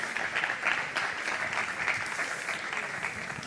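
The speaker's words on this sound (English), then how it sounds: "big round of applause" An audience at a stage event applauds with dense, even clapping that holds steady for a few seconds, with no voices over it.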